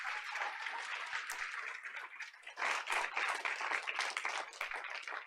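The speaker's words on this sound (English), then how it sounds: "let's give all of our Arroyo Valley Hawks another round of applause." An audience at a school board of education meeting claps for the Arroyo Valley Hawks, a moderate, somewhat thin patter of hands with a short dip before picking back up, fairly quiet in a large room.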